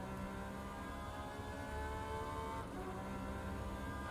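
Race car engine in the rFactor 2 racing game at Le Mans, a steady, droning multi-toned engine hum heard from the cockpit, moderately faint and continuous with no talk over it.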